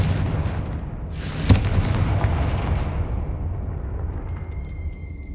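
A sharp blast from the Confringo spell in Hogwarts Legacy goes off loud, with a booming, rumbling explosion that decays into a fading roar, followed by faint tonal game sounds near the end.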